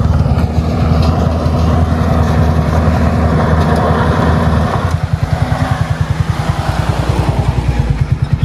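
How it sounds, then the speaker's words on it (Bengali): A motorcycle engine labouring on a steep, rough, potholed road as the wheel slips, a loud close drone that turns into a rapid pulsing chug partway through. "চাকা স্লিপ করছে তো ভালোই না দুজনে নেমে যাও"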